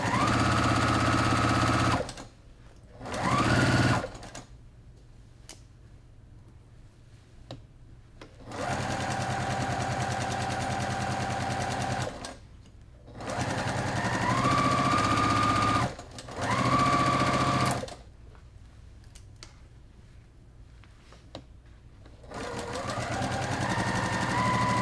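A sewing machine stitches placemat seams in repeated loud, close, steady runs of rapid stitching, separated by quiet pauses.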